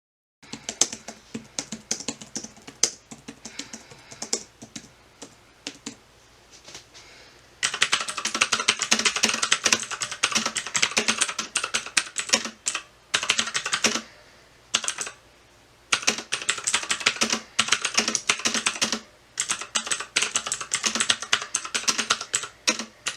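Quiet, shallow clicking from a Logitech K380 laptop-style keyboard being typed on at a steady, fast pace. The keystrokes are soft and close, grow busier after a few seconds, and drop out in a couple of short pauses.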